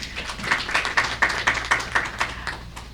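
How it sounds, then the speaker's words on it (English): Audience applause at a CISLAC and Transparency International event: a small group clapping in a steady, moderately paced rhythm, fairly faint and distant, lasting a few seconds. "please give an applause"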